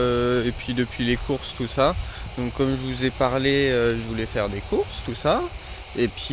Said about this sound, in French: je crois que c'est les cigales qui chantent bien là depuis qu'on est arrivé.